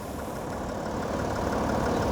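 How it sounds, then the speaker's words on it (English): A BMW 540xDrive Touring engine idles steadily at close range, a smooth, even mechanical hum that holds constant throughout with no voices. "I can stop the engine."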